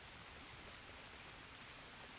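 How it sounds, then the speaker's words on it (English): Steady rain falling in the jungle survival game Green Hell, a continuous soft broadband hiss with no distinct drops, fairly quiet and alone. "it started raining"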